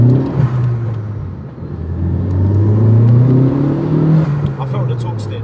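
Vauxhall Corsa VXR accelerates from inside the cabin, its engine note rising and falling through revs as a steady drone, with people chatting over it.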